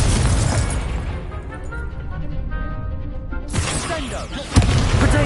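A Confringo blasting spell goes off in a Harry Potter video game, a sudden bright burst of crackling energy followed by a punchy impact, loud and close amid ongoing game noise and a voice casting.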